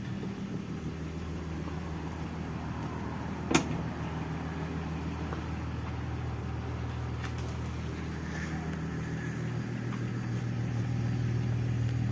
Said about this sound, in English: let's just go have a listen at the engine.